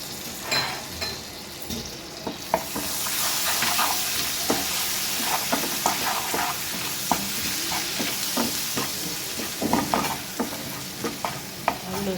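Curry leaves and spices fry in oil in a pan, a steady close sizzle and hiss broken by frequent scraping stirs and light knocks of a spoon against the pan.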